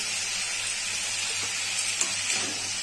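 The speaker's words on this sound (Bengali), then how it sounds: "নুন হলুদ দিয়ে আমি ভালো করে আলুটাকে ভেজে নেব।" New potatoes frying in a pan with salt and turmeric, a soft continuous sizzle and hiss with light stirring, heard alone without speech.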